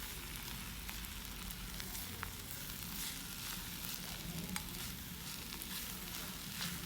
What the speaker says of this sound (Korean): 돌솥의 겉은 지글지글 밥이 서서히 굽히고 있다